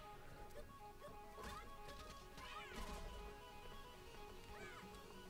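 A cat meows in a video game, several harmonic meow calls rising and falling over a dense background of game noise and music.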